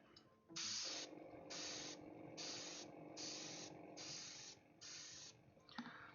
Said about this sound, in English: It's not really spraying very well, is it?